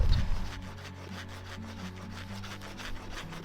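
A small folding camping handsaw cuts through firewood outdoors, its close rasping back-and-forth strokes coming in a quick even rhythm.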